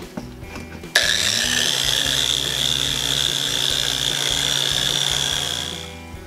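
A power sander starts with a sharp jolt and whirs steadily on an interior trim piece, a loud, even high-pitched drone that tapers off at the end.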